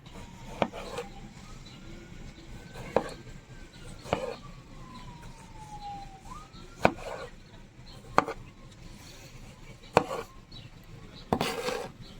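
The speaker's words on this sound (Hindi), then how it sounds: "जी टमाटर हमने काट लिए" Tomatoes chopped on a board for a mixed salad: sharp, isolated knife knocks spaced a second or two apart, heard over a faint steady background tone.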